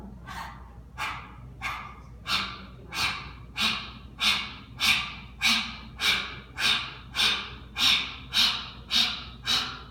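A series of forceful, breathy exhalations through the tongue in a pranayama breathing exercise repeat in a steady rhythm, about fourteen sharp pants, close and loud with no talking.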